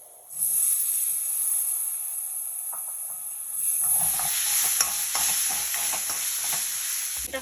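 Tomatoes frying in a pan for khichdi with ground walnuts and almonds: a close, steady hiss and sizzle that swells as the tomatoes go in, then scraping stirs break through the frying, no talking.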